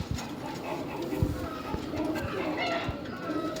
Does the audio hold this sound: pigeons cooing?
yes